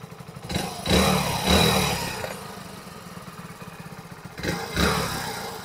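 A Hero Splendor Xtec BS6 motorcycle engine idles with a steady low putter, briefly revving twice before settling back to a rhythmic idle.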